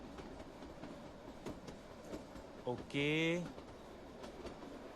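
A train runs in a scene from the Bollywood film Jab We Met, a low rumbling clatter under faint voices, broken by a brief loud whistle-like tone partway through.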